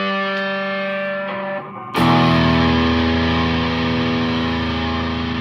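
Sustained electric guitar chord pushed through a distortion effect, a thinner tone that cuts off and gives way to a louder, thicker distorted chord ringing on, with no talking.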